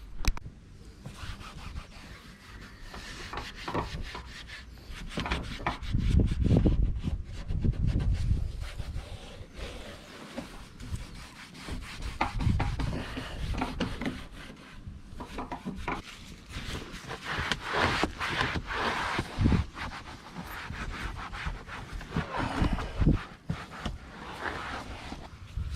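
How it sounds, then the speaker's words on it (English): A DA sander works over the car paint on a van, giving a steady, fairly quiet whirring scuff that swells and eases as the pad moves across the panel, with no talk. "pretty much finished sanding with the DA"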